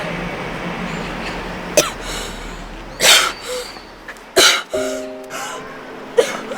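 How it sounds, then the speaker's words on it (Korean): Several separate coughs and throat-clearing bursts, spaced a second or so apart, over a steady background hum; nearby and moderately loud. "어우, 쟤 기침하네."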